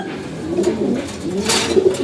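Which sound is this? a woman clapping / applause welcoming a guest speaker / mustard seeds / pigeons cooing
pigeons cooing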